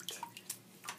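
A Barbie doll paddles through water, giving a few light, close splashes and drips in a quick uneven rhythm, brief and soft.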